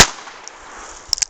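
A single shot from an H&R 22 model 649 revolver fired outdoors at a target about 20 feet away: a sharp bang right at the start that decays quickly, followed by a few faint clicks.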